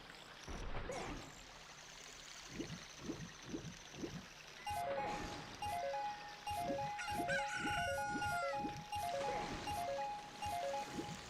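Chicken clucks in the Ship of Harkinian video game arrive as a run of short repeated bursts, joined midway by bright chiming game tones, all fairly quiet.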